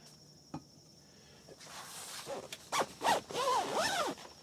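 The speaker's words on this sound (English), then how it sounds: "And I'll zip this door shut" A zipper is pulled shut on the door of a photography blind, a series of scratchy rising zips building over a few seconds after a faint tap, close and fairly quiet.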